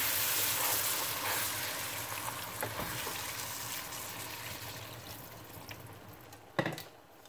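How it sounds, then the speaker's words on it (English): Beef broth pours and is stirred into a flour roux, a soft continuous liquid wash with light stirring scrapes and one sharper knock near the end. "And then we're going to start stirring in our beef broth."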